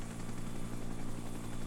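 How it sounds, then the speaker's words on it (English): A Vietnam-era helicopter in Arma 3 with the Prairie Fire mod gives off a steady, droning rotor and engine hum, moderately distant and unbroken, with no voices over it. "there's a helicopter."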